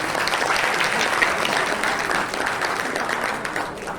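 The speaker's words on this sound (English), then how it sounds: "Can we have a big round of applause?" An audience gives a quiz competition team steady, dense applause at a quiz event, sustained clapping that eases slightly toward the end.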